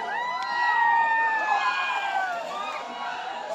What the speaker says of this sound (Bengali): আর এখন ট্রেন আছে তো সবাই আওয়াজও করছে